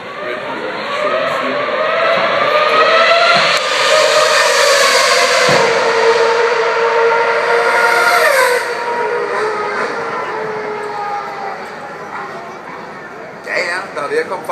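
Red Bull Formula 1 car at high speed, over 263 km/h, a loud sustained engine whine rising and falling in pitch as it passes, with a person talking over it.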